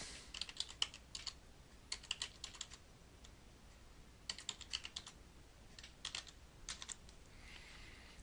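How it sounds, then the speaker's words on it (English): Someone types a server name and database name on a computer keyboard, quick bursts of light key clicks separated by short pauses, quiet and close in a still room. "I'll type in the server name and the database name."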